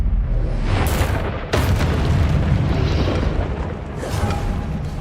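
A Depulso spell cast in Hogwarts Legacy comes through as a dense, continuous booming roar with a few sharp bursts on top, loud and close the whole way through.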